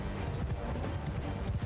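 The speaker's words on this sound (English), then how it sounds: "Cavalry's creeping up over there." Cavalry horses gallop across a battlefield in Mount & Blade II: Bannerlord, a dense continuous rumble of many hoofbeats, loud and close.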